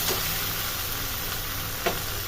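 Water spinach frying in fish oil in a pan, a steady dense sizzle running throughout, close and loud, with a brief stir or clatter near the end.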